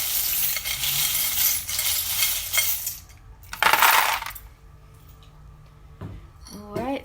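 Small metal charms cast onto a painted tray: a loud, bright rattling clatter as they spill and scatter, a short burst of further jingling, then a quieter pause before a few last clinks and a voice speaking near the end.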